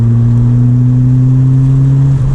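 A 1985 Ford Escort Series 1 RS Turbo drives along a sweeping road, its engine a loud, steady drone heard from inside the car, holding an even pitch throughout with no speech.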